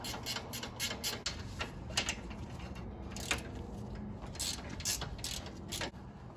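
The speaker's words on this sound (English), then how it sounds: "We're gonna have to take a 10mm socket or wrench to remove the bolts." A 10mm socket ratchet works loose the AC condenser mounting bolts on a Nissan Frontier, Xterra or Pathfinder, giving steady runs of quiet, close ratcheting clicks with brief gaps and no voices.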